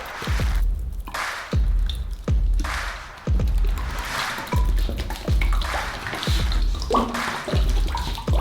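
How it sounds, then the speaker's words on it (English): Thick kefir is poured over chicken pieces for a shawarma marinade, making close, wet glugging and squishing sounds in repeated pulses, with no talking. "we use kefir. Just pour it on top."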